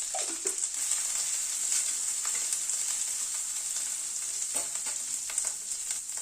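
Spices with red chilli, turmeric and grated coconut fry in a pan for a fennel eggplant curry, a constant bright sizzle with occasional scraping stirs close by.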